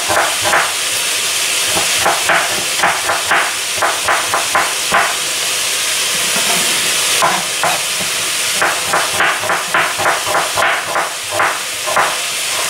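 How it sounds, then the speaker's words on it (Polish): Meat sizzles and fries in a pot for Hungarian goulash soup, a steady loud hiss broken by repeated clattering stirs and knocks of a utensil against the pot, with no talking. "Mięso się podsmaża"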